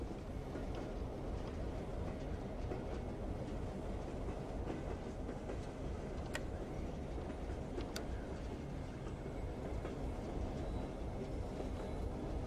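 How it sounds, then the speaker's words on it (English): A big train passing close by, a loud steady rumble with rhythmic clickety-clack of wheels over the rails and a couple of sharp metallic squeals, continuous throughout. "I get it's a somewhat big train,"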